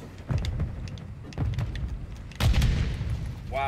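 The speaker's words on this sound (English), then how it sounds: "he just threw a random nade and hit me" A grenade goes off in an online shooter video game, landing as a loud, close, heavy boom with a sharp broadband burst. Several lighter blasts and gunfire-like cracks come before it, and no one talks.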